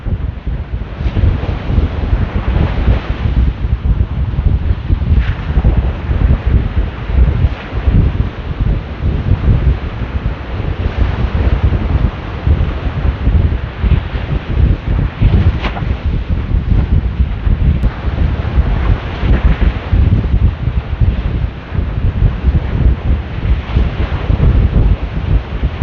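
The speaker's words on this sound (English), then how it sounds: "It is so windy." Strong wind blows across a microphone on a Jersey Shore beach while fishing, a loud continuous roar of buffeting gusts with faint surf underneath and no talk.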